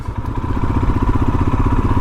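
A Royal Enfield Himalayan, a simple mechanical motorcycle, idles close by with a steady, loping single-cylinder thump and mechanical clatter, running alone without talk.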